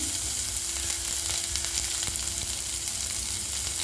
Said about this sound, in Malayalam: ഈ പച്ചമുളകും കൂടെ ചേർത്ത് ഒന്ന് ഫ്രൈ ചെയ്യാം